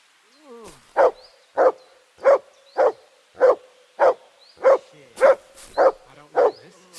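A dog barks in Kingdom Come: Deliverance 2, giving about ten loud, evenly spaced woofs close by over roughly six seconds, with no talking.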